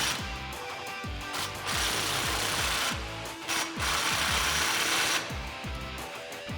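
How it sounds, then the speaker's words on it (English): An exhaust clamp on a 2005-2015 Toyota Tacoma 4.0L V6 is tightened with a 15mm socket on a power tool, giving rapid bursts of loud, close ratcheting clatter with brief pauses between runs. "Then with a 15mm socket, go ahead and tighten it down"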